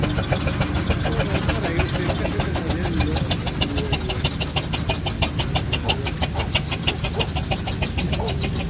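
Several vintage stationary engines at a rally chug and idle together in a steady, rhythmic mechanical pulse, loud and close, with voices faintly in the background.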